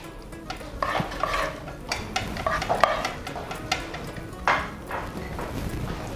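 Minced meat for a baked macaroni béchamel dish sizzles in a hot pan while a utensil repeatedly scrapes and stirs it, close and clear, with no talking.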